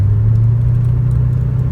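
A 1984 Porsche 928S in Ruby Red runs while being driven. Its engine gives a steady, loud, low rumble with a constant drone, close and continuous, and nobody speaks over it.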